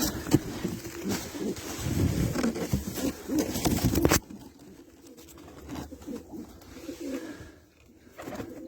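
Domestic pigeons coo in low, soft repeated calls amid a dense, busy loft din that drops sharply after about four seconds, leaving quieter intermittent cooing and rustling.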